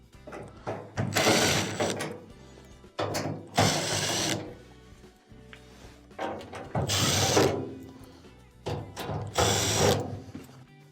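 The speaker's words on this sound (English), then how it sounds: "Now, you'll have to remove these Phillips screws on the front." A cordless driver removes Phillips screws from the front panel of an LG dryer, with several bursts of ratcheting mechanical whirring separated by pauses and light clicks.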